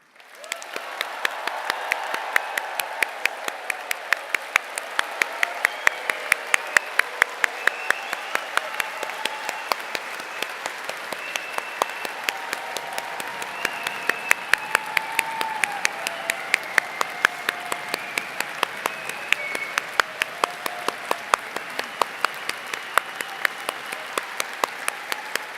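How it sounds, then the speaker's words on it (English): Final round of applause for new graduates closing a university graduation ceremony, sustained crowd clapping with distinct sharp individual claps standing out over a steady roar for the whole stretch. "offer a final round of applause to our new graduates to recognise their remarkable achievements"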